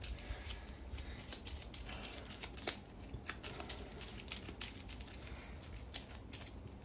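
Cards from a Battlestar Galactica board game deck being shuffled at a table, a soft, steady stream of papery riffling and patter with brief sharper snaps, close and quiet, no talking.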